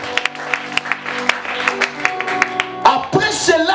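A church congregation claps and cheers in praise, with rhythmic hand claps building into a louder burst of applause and shouting near the end.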